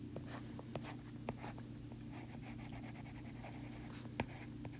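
A pen scratches and taps while a chemistry reaction mechanism is drawn, with short strokes and light clicks over a quiet, steady low hum, close by and without talk.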